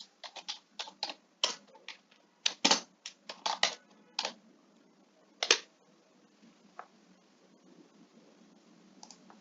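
Keys clacking on a computer keyboard while a name is typed into an MS Excel marksheet, a close run of irregular taps in bursts that thin out to scattered faint clicks near the end, with no talking.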